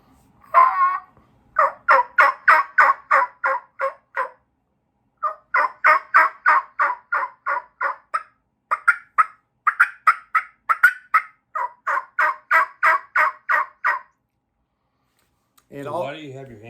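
A mouth-blown turkey call imitating a spring gobbler, giving rapid rhythmic runs of sharp yelping notes in several bursts, close and clear, with a short low voiced sound at the end.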